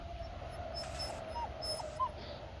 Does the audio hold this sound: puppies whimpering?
yes